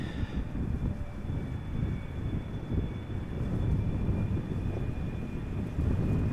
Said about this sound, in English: Air Canada flight 808, Boeing 777-200 long range, arriving from Toronto